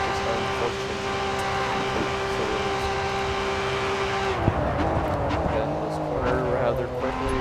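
A super modified Nissan R32 race car in GRID 2 roars steadily at high revs, then drops pitch sharply under hard braking with brief tire squeal, with speech over the engine.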